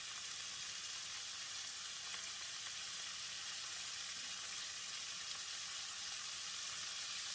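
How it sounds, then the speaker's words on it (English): Baby French beans with garlic oil, light soy sauce, sesame oil, sugar and taucu stir-fried in a wok, giving a steady, even sizzle with a soft hiss throughout and no speech. "Stir for about 30 seconds or until the beans and seasoning are well combined."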